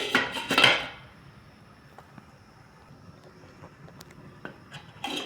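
A lid clanks down onto a cooking pot of pumpkin tops simmering in coconut milk, giving a loud metallic rattle for about a second, followed by quiet background and a few faint clicks.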